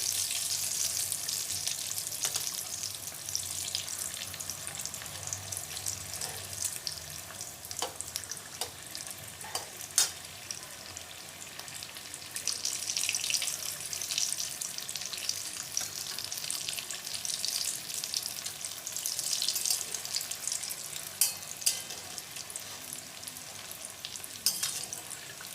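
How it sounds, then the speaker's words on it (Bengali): Egg chops deep-frying in hot oil while being turned, a steady hissing bubbling sizzle with occasional soft knocks from stirring, moderately close and continuous with no talk. "নেড়ে চেড়ে একটু ভেজে নিতে হবে লাল লাল করে,"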